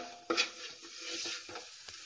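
Tomatoes added to a pan with onions and chillies for kappa biriyani, a quiet sizzle opening with a sharp hiss as they land, followed by soft stirring scrapes.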